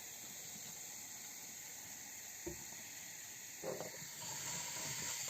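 Apple vinegar is poured into a batter mixture for tube pastries, giving a faint, steady fizzing hiss with a couple of brief splashy bursts near the end.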